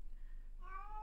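A pet cat meows once, a drawn-out harmonic cry that starts partway in and rises clearly above a low, steady background hum.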